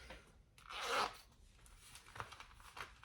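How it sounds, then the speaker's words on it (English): A clothing zipper being pulled apart during sewing, a single drawn-out scraping rasp near the mic, followed by fainter handling rustles. "then we're going to separate our zipper"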